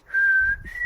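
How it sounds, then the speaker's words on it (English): A single clear, whistly tone from a high wind instrument, held briefly and steady before a slight drop and a renewed note, alone without talk. "It makes kind of almost a whistly sound."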